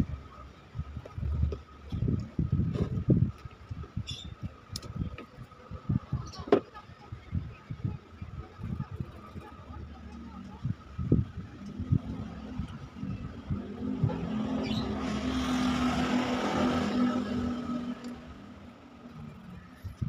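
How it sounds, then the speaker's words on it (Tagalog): Ice crusher motor for milk tea and halo-halo, newly rewound after running slow and humming, switched on for a test: a steady whine and broad whirring build in from about twelve seconds amid earlier clatter and handling noises. "para ma-testing natin kung nagiba yung ikot ng motor ng ice crusher nito"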